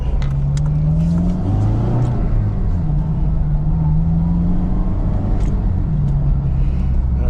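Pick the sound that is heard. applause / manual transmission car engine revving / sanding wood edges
manual transmission car engine revving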